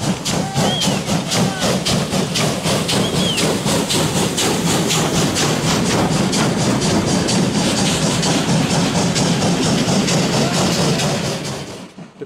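A WW2-era German Kriegslok steam locomotive built in 1943–44 hauls a heavy coal train, giving a loud, close, steady rumble with a rapid regular rhythmic beat of exhaust and wheels that fades slightly at the end.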